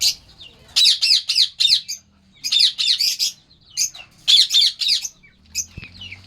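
White parrot-like pet birds squawking at close range in sharp, shrill bursts of rapid repeated calls, separated by short silences.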